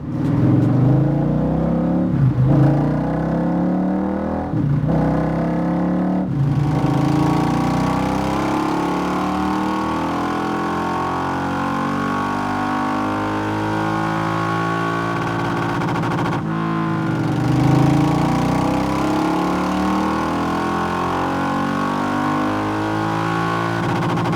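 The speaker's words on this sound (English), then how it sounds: "So we'll get it run up on the dyno, see how those modifications have altered how the bike runs" A Triumph Bobber 1200 fitted with a Delkevic exhaust and DNA air filter revs hard on a dyno. The loud, close engine roar climbs through repeated rising runs with brief throttle blips near the start and one drop and return later.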